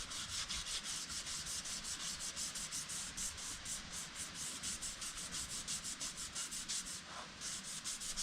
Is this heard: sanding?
yes